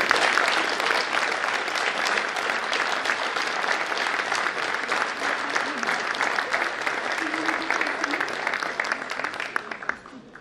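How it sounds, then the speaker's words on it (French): An audience at a town hall New Year's ceremony in Ondres gives a long, steady round of applause for an honoured citizen, a thick wash of clapping that tapers slightly near the end. "Je peux applaudir André."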